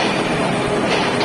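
The Silk City Express pulls into Ullapara railway station, a brief, loud, steady rumble of rolling wagons filling the platform with no voices.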